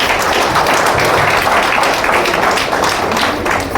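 A crowd at a business meeting applauds loudly and continuously, dense overlapping clapping filling the room without pause, with a few voices mixed in.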